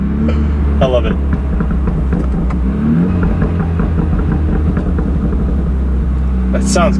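A BMW F30 running a bootmod3 tune sends out a steady exhaust drone broken by sharp, separated pops and burbles, loud and close throughout, with a brief higher crackle burst near the end.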